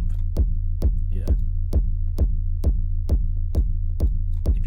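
A techno rumble kick made in Ableton 12 thumps in a steady four-on-the-floor pulse, each hit followed by a droning, pumping sub-bass rumble with a gritty industrial edge, loud and alone.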